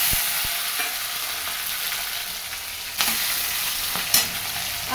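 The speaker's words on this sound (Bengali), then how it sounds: "তেলে জিরে ফোড়ন দিয়েছি আর এই যে কাঁচা লঙ্কা আর টমেটো দিয়ে দিচ্ছি" Green chillies and tomato dropped into hot oil tempered with cumin, a dense close sizzle and crackle with a few sharp spoon clinks and scrapes, including a sudden burst of spatter near the end, and no speech.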